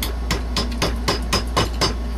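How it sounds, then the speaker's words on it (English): Seven or eight light, sharp taps of a plastic hammer seating a brass cartridge case into a Lee Classic Loader, at a steady rhythm, close by, with a faint low hum underneath. "Tap the brass into the holder."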